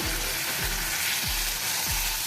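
Tomato paste sautéing in a pan gives a constant, loud, hissing sizzle with a low rumble from the heat underneath, steady throughout.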